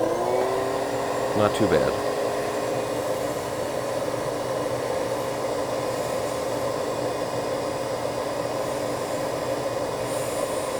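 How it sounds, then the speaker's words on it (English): A steady, loud mechanical whir of a record cleaning machine's vacuum motor runs throughout, with a brief clatter near the start and a short spoken remark over it. "I'm going to turn on the vacuum."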